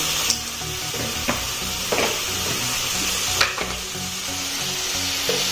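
Chilli and turmeric spices frying in a pan give a steady, close sizzle with faint scraping stirs and a few brief clicks, no talk.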